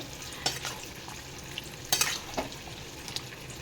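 A spoon scrapes and stirs through a mixed vegetable curry finished with roasted cumin powder, giving a few sharp clinks and scrapes over a soft background sizzle, close by with no talking.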